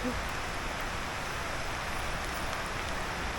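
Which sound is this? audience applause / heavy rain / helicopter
heavy rain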